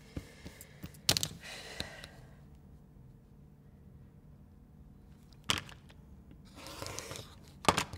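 Scissors cutting fabric, working away from the body while sewing a zipped pouch, giving a few short snipping bursts spaced across the clip with quiet gaps between, close and fairly soft.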